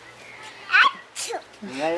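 A single sharp sneeze from a woman indoors, close and abrupt, followed by brief conversational speech.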